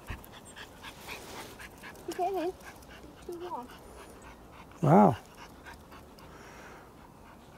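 A nearly nine-year-old dog whimpers and pants after jumping into a freshwater lake on its own, with soft breathy panting and a louder whine near the end, while people talk nearby.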